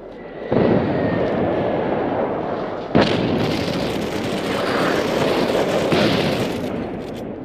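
Airstrike explosions from a bomber in the military shooter Squad, a loud sustained roar of blasts with a sharp crack near the middle and rumbling continuing to the end, no talk.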